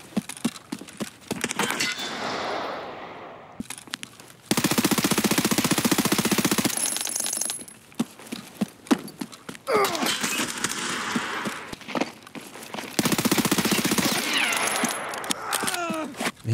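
Video game gunfire rattles through in dense rapid bursts, loud and close, alternating with sharp single shots and brief lulls, with occasional shouted voices mixed in.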